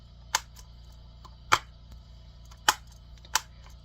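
A plastic movie case clasp clicks four times, sharp distinct snaps spaced about a second apart over a faint low hum, close up with no talk.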